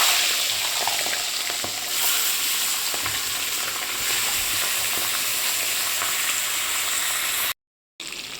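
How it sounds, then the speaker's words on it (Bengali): Catla fish heads fry in hot oil in a wok, a loud, continuous bright sizzle with crackling spatter throughout, alone without voices, briefly cutting out near the end. "এবার আমি কাতলা মাছের মাথাগুলো ভেজে নেব।"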